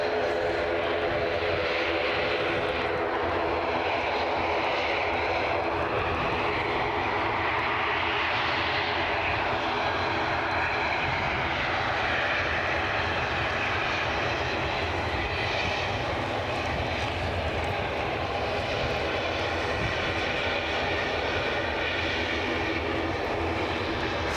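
KLM airliner at Aberdeen rolling for takeoff: a steady, loud jet engine roar that holds continuously throughout, heard at a distance across the airfield.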